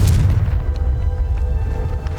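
A Confringo fire spell explodes in the Hogwarts Legacy video game, a heavy low boom that rumbles and sustains loudly through the whole stretch, with no voices over it.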